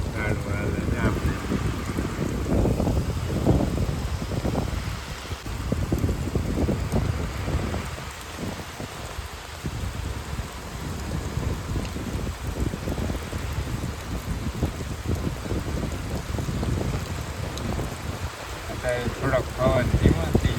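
A strong night-time storm wind roars through village trees in rough, fluctuating gusts, buffeting the microphone loudly, with rain-like hiss mixed in and someone talking intermittently over the noise.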